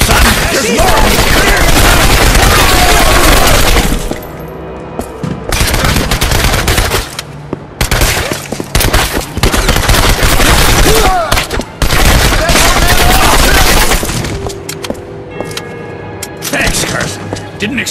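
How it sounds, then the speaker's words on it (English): Intense close gunfire in Turning Point: Fall of Liberty, sustained loud automatic bursts and heavy shots with brief gaps, mixed with shouted voices and battle noise throughout. "Open fire!"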